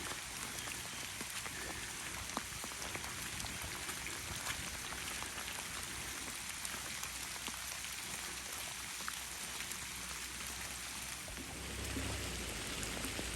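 Steady rain patters on a farm field where cows are kept, a dense continuous hiss of drops at low volume throughout with no voices.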